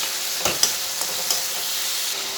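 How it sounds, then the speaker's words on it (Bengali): Spices, dried chilli powder, salt and chopped ginger, roast in a pan with a loud, continuous hiss, punctuated by a few sharp spatula taps. "মশলাটা ভালো করে বেজে নিচ্ছি"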